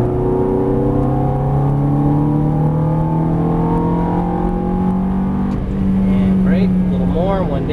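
A Ferrari F430 engine pulls hard, its rising drone climbing steadily in pitch as the car accelerates, loud and close, with a person talking over it.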